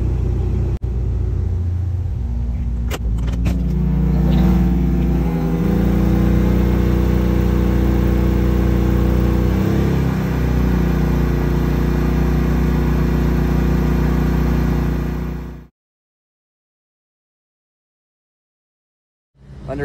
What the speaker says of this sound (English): Inside the coach, just fired up the generator for a day of testing here.